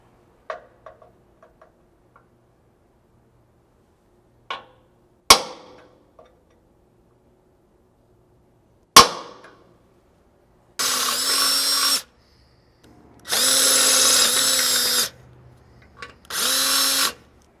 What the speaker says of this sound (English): you can drill a 5/16 pilot hole for the supplied 3/8 self-tapping